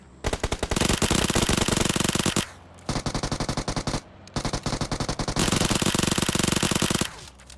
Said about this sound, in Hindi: ये फायरिंग